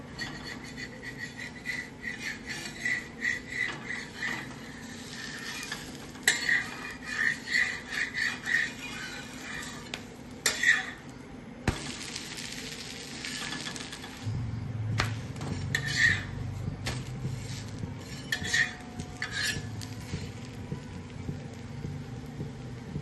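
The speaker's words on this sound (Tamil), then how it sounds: "அரைச்சி இந்த மாதிரி நீங்கள் ஊற்றுங்க, தோசை ஊற்றுங்க, சூப்பராக வரும்." Green gram dosa batter, ground with curry leaves, is poured onto a hot pan and cooks with a steady sizzling rasp, broken by scraping and spreading sounds and a louder low sizzle near the end.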